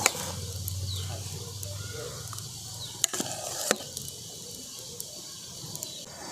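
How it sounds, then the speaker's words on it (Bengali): Palm fruit pulp goes into a hot wok (kadai) for taler pitha, a low sizzle with wet squishing stirs and a few sharp clanks of the spoon against the pan, no talk heard. "কড়াটা বসিয়ে দিয়েছি এরপর যে তালের পাল্পটা বানিয়ে রেখেছি তালের পাল্পটা দিয়ে দেবো"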